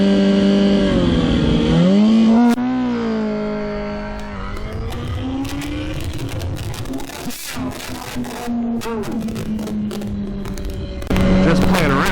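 A car launches and accelerates hard, its engine note climbing through revs with rough, strained rumble, easing off mid-clip and then surging again near the end, heard close with no talk over it.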